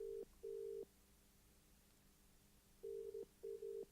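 A telephone ringing on an unanswered call, faint steady tone bursts in a repeating pattern of two rings, a pause, then two more, heard alone at low level.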